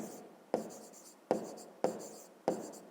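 Numbers being written by hand for a fifth-grade math exercise: four firm pen strokes tap down at a steady pace, each followed by a short scratching trail, quiet and close, with no voices.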